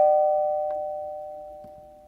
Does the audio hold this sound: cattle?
no